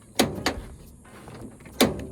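An old car's door, with its interior panels stripped out, is opened with three sharp metallic clunks: two close together, then a pause and a final louder thunk, heard close.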